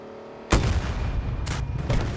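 An M5 recoilless rifle fires in Battlefield 2042, a single loud boom that rolls into a long rumbling tail, with a couple of fainter crackling bursts trailing after it.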